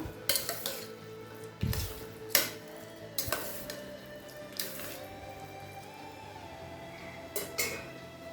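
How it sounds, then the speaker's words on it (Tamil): A spoon scrapes and clinks against a bowl while curd rice is stirred and mixed, with soft squishy sounds and occasional sharper knocks. "இப்போ இதை நல்லா மிக்ஸ் பண்ணிக்கலாம்"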